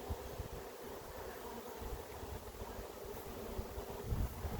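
Honey bees hum steadily at an open hive during an inspection of the brood frames, a continuous low buzzing with some wind rumble across the microphone.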